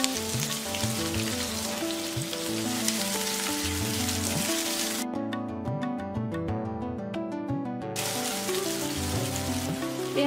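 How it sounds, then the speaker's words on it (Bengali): Chicken filling with onion frying in a pan for layered singara gives a steady, close crackling sizzle over background music, cutting out for about three seconds midway before resuming. "পেঁয়াজের সাথে এটা আরো ভাজা হবে।"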